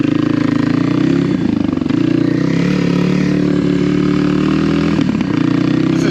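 Kawasaki KLX300R trail bike engine running loud and close, a steady, throbbing drone with slight shifts in pitch and a couple of brief dips.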